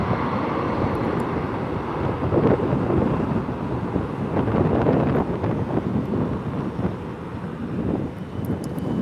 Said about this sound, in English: this 330 will taxi over here